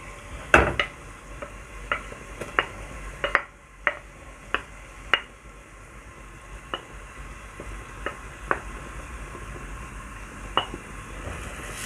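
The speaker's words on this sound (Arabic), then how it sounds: "في زيت غزير نزلنا بالبصلة. هبدأ انزل بالجزر" Onion and carrots fry in plenty of oil with a steady soft sizzle, broken by sharp scattered pops and clicks, some louder near the start, close by and without talk.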